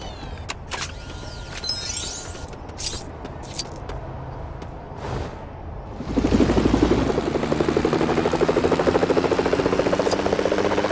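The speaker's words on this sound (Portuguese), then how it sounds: "eu acho que eu vou com o helicóptero do Batman" Batman's helicopter in a video game, a loud steady rotor and engine drone that kicks in about six seconds in and holds to the end, after a stretch of clattering game sounds.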